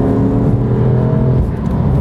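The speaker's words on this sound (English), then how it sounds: "right now we are on some back roads with this Akrapovic exhaust" A car fitted with an Akrapovic exhaust cruises along back roads, giving a steady, loud engine and exhaust drone heard from inside the cabin, with no talking.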